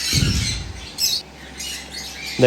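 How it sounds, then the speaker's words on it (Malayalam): A sun conure chick in a bird-breeding setting gives a few harsh, close squawks in short bursts, with no talk over them. "ഇത് വന്നിട്ട് സൺകൊണിയറിൻ്റെ ചിക്കാണ്"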